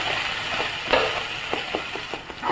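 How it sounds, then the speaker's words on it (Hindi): Tomato, chili and ginger puree frying with spices in a pan for chole, a continuous close sizzle broken by soft spoon-stirring taps and scrapes. "इसे भी अच्छे से मसालों के साथ भून लेते हैं"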